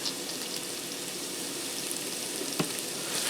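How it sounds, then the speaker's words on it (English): Vegetables, dried oregano and Italian seasoning sautéing in a pot for cheeseburger soup, giving a steady, dense sizzle with a faint crackle and one brief sharp knock near the end. "Now I'm going to saute the vegetables and the seasonings till the vegetables are translucent and tender."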